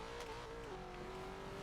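Loud, close engine drone from a 1968 Pontiac Firebird racing in Forza Horizon 4, pitch sliding down once as it shifts, then holding steady.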